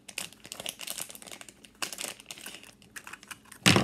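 A plastic package holding a mesh fidget toy being cut open up close, with rapid crinkling, snipping and rustling of plastic that ends in a sudden louder crackle.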